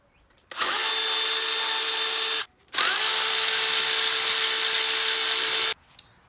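Power driver spinning out the four T30 bolts from the throttle body of a Mercedes SL55 AMG: two loud, close, steady high-pitched whirring runs, about two and three seconds long, split by a brief pause.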